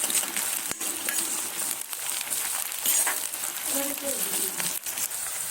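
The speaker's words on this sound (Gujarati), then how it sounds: "હવે આપણે લસણ અને આદુની પેસ્ટ એડ કરીશું, એને પણ સરસ રીતે શેકાવવાનું છે" Garlic and ginger paste sizzles and crackles in a pan over already-browned onions, a steady close frying hiss with occasional pops, while a person talks over it.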